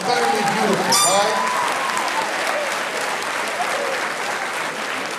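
A graduation ceremony audience breaks into a loud burst of applause, dense clapping with some cheers and whoops that fades slightly while continuing to the end.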